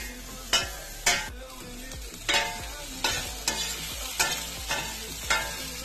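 Onions and peppers sizzle in a little oil in a pan while a utensil scrapes and stirs in regular strokes, each stroke a brief clatter over the continuous frying hiss.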